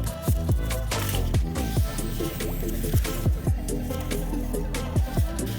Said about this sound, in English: you can again deflate it